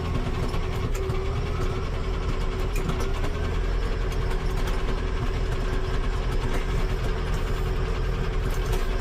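A 2010 John Deere 7130 tractor engine idles continuously at close range, a low mechanical drone with a faint knocking texture and no voices.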